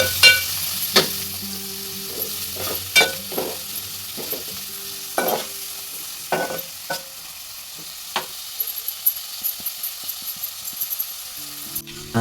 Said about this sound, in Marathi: लगेचच आपण कांदा ॲड करून घेणार आहोत. कांदा व्यवस्थित असा मिक्स करून घ्यायचा आहे.